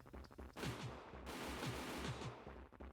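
Gunshots from the visual novel Higurashi Hou+, a rapid run of sharp cracking bangs fired in quick succession over about three seconds, loud and close with no talking.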